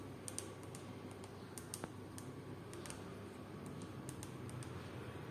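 Keys tapped on a computer keyboard while a password is entered during an Ubuntu setup on a Raspberry Pi 4, giving a scattered run of light, quick clicks over a low steady background hum.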